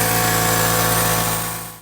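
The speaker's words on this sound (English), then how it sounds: "turn on my air compressor" A wall-mounted air compressor runs steadily while filling its tank, giving a loud, even mechanical drone with a constant hum that fades slightly at the very end, with no talking.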